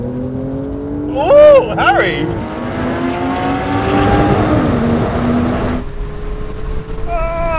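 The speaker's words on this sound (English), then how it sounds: "Look at that turbo coupe go, I've got too much drag. It's getting noisy!" A Porsche 911 Turbo S coupe accelerates hard in a rolling race from 50 mph in normal mode with an automatic kickdown, its engine note climbing loud and steady for several seconds while voices shout over it.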